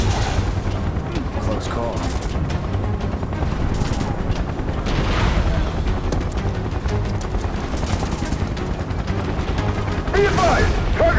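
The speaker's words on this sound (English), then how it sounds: "Open fire! Shoot to kill!" Soldiers' gunfire in Final Fantasy 7, repeated bursts and booms throughout a chaotic fight, with voices speaking over the shooting.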